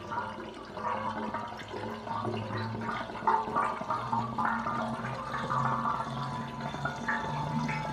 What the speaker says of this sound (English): Okay, let's get a bit of fuel in there.